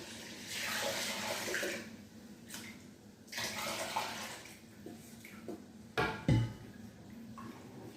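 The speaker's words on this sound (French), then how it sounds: "Je vais ajouter mon eau." Water pours steadily into a pot for Haitian rice in bursts with brief pauses, followed by a couple of sharp metallic clanks from the pot near the end, heard close up with no talk.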